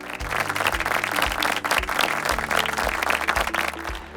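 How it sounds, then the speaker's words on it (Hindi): Audience applause at a national family Bible quiz show in India, heard as steady clapping over loud rhythmic music with a thumping bass beat throughout. "तो एक बार जोरदार तालियां हो जाए मिस्टर जॉनसन बेस्टन एंड विनीता बेस्टन के लिए।"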